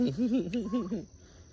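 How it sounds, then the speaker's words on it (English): Turkeys on a farm give a short, rapid warbling gobble that lasts about a second, close and fairly quiet, followed by faint background noise. "The turkey, they're not leaving, they want some food anyway"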